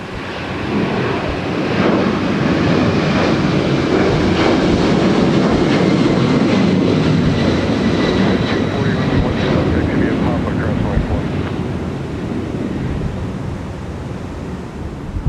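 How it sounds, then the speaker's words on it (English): A heavy jet airliner departs Minneapolis–St. Paul Airport at night, its broad engine roar rising and holding loud for several seconds before slowly easing, with faint radio chatter beneath. "one more heavy departure, and that's a wrap for tonight, folks"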